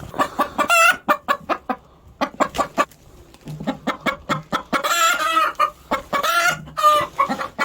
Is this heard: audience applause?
no